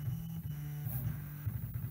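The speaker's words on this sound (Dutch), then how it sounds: "daar gaat die bed level procedure beginnen" A Prusa i3 MK3 3D printer begins its bed level procedure with a steady mechanical hum and a throbbing motor whir that pulses faintly as it moves, and nobody speaks.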